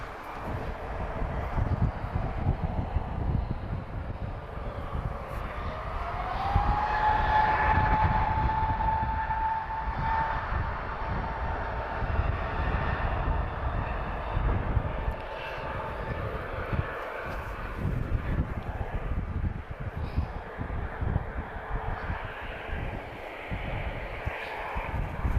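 An easyJet Airbus A320neo in special Neo livery departs Lisbon Airport for Amsterdam, its engines a sustained broad roar with a rising whine partway through that settles into a steady distant rumble.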